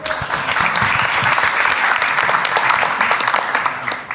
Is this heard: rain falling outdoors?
no